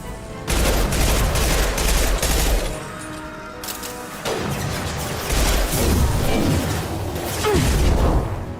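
Heavy impact-shot gunfire from the Mass Effect video game on Insanity difficulty, with loud booming bursts and crashing blasts filling most of the clip, a short lull in the middle before more explosive shots.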